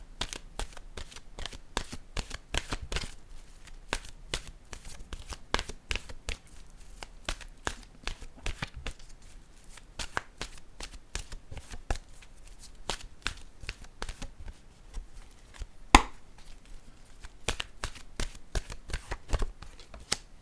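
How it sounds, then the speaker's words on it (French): Oracle cards are shuffled and drawn by hand in a long run of crisp, rapid riffling clicks and flicks, close and steady, with one sharper snap near the end and no talking. "Je vais piger maintenant une carte de mon oracle de l'âme intuitive."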